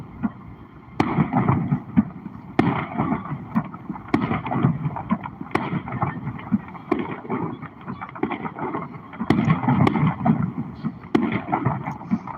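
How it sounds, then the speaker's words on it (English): Fourth of July fireworks pop and boom in a steady, crackling barrage, with sharp bursts about every second or two over a constant rumble of wind and crowd. "while we're watching these fireworks, we're celebrating our independence"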